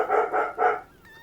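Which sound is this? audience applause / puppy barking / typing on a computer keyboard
puppy barking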